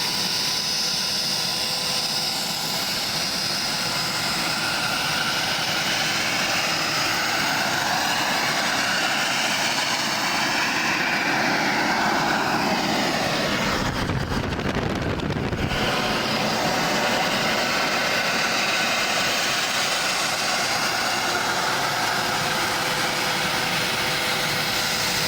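Homemade jet engine built for a go-kart roaring steadily at full power, a loud continuous broadband rush with a brief deeper surge near the middle, no speech.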